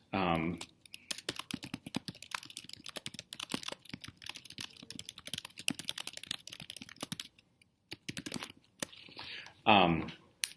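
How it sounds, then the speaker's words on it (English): Computer keyboard typing goes on as quick, uneven clicking keystrokes in a steady stream, close and clear, with brief speech at the start and near the end. "I could type in any number of points"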